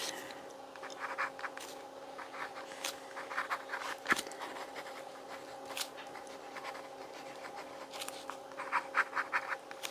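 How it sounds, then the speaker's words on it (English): A pen scratches across Kobeha Graphilo notebook paper, with soft, irregular strokes and little taps close to the microphone over a faint steady hum. "Okay, so I'm just going to write."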